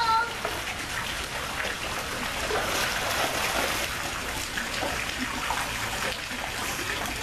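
A child in a mermaid suit swims, churning up continuous splashing and sloshing water at moderate volume, with voices talking nearby.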